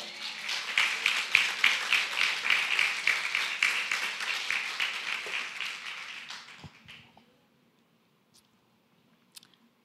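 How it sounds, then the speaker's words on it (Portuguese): A church congregation applauds in a dense, steady round of clapping lasting about seven seconds, rhythmic swells throughout, then fading abruptly to near silence with a couple of faint knocks. "Você pode aplaudir o Senhor?"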